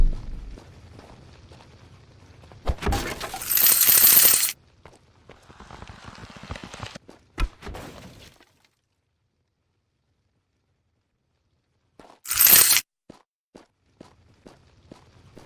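Indie video game effects for gold loot and breaking boxes: crunchy bursts and scattered clicks and clatters, with two loud noisy crashes separated by a stretch of silence; no talk.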